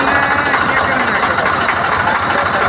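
Tractor engine straining hard under load on rough hillside ground, a loud, close, continuous diesel roar that holds steady without a break.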